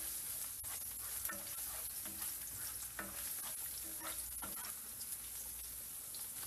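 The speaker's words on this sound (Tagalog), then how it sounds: "Ang una natin gagawin, igigisa natin yung ating bawang." Garlic sautés in a pan with a faint, steady sizzle, interrupted by occasional scraping stirs and clicks of the utensil, close but quiet.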